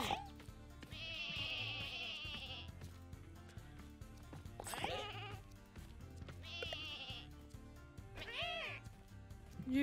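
Sheep bleating in the video game Lumberhill, several wavering calls scattered through a busy, loud mix of game music and effects.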